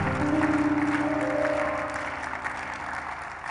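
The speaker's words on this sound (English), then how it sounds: "When you clap, then your church can get that." A church audience claps steadily, a dense wash of applause with a sustained tone droning underneath.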